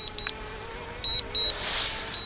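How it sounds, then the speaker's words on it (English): Entry-level drone, a Hubsan Zino 2 or DJI Mavic Mini, gives several short electronic beeps while landing: a few quick chirps at first, then two longer tones, over a faint motor whine and rising whoosh. "you cannot shut off that beeping, that infernal beeping"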